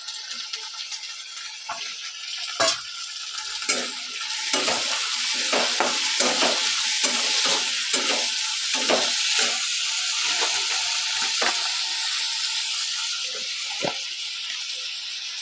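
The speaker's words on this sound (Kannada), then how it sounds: "ಸ್ವಲ್ಪ ಹೊತ್ತು ಎಣ್ಣೆಲಿ ಫ್ರೈ ಮಾಡಿದರೆ ಹಸಿ ಹಸಿ ಇರೋಲ್ಲ" Washed beans and cowpeas fry in oil in a pan, giving a steady close sizzle broken by repeated scraping stir strokes.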